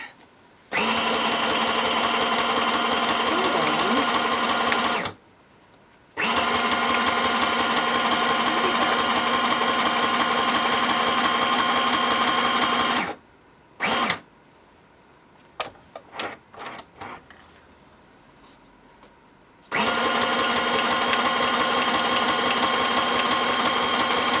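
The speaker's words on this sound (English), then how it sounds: "now I have to fix my sewing machine" A sewing machine, just repaired and still not working quite right, runs in long steady bursts with a rapid mechanical whir, stopping briefly twice, with a few scattered clicks and knocks before it starts again.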